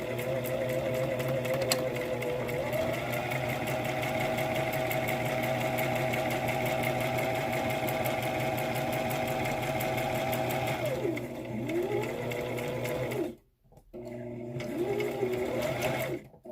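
A sewing machine back stitching a seam on an adult-sized fabric face mask, a steady fast needle chatter running nonstop, then briefly stopping and restarting near the end.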